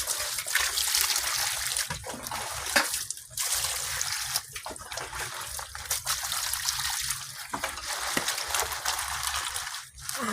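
Vegetables being washed in water, with continuous running and splashing water, steady and close throughout with brief handling sounds, no talk.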